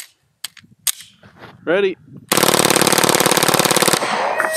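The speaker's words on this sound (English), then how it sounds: "we're gonna load up a 30 round stick mag with this Rainier Munitions 9mm and just put 30 rounds into it" A full-auto Glock 19C fed from a 30-round stick magazine rips off a rapid burst of 9mm rounds into bulletproof glass, loud and close, following a brief spoken word and a few isolated clicks and knocks.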